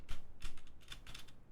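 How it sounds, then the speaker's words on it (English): Computer keyboard typing during a PC game session, a quick irregular burst of key taps and clicks, close and fairly quiet with no talking. "You guys will probably hear my keyboard for some of this"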